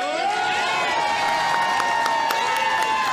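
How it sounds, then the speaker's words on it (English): Rowdy fans pack the inn at Grand Glaze for a slap fighting event, a dense wall of crowd cheering and whooping that stays loud and steady throughout, with shouted voices mixed into the roar. "the fans here at the inn at Grand Glaze are rowdy. I can barely hear myself over the crowd."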